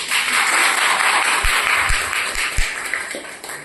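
An audience in Bengaluru bursts into loud, sustained applause that fills the room in a dense wash of clapping, with a few deeper thumps scattered through it.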